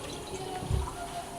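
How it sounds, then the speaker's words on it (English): A pot of water is tipped into a simmering meatball soup, a brief close splash and slosh over a low steady background hum. "We're gonna add this last pot of water."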